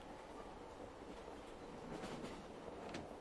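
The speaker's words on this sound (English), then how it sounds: "this is just a long adventure through the subway train just to get to the end." Subway train riding along in Silent Hill 3, a steady rumbling rail drone with faint clickety-clack and metallic accents, continuous and moderately loud throughout.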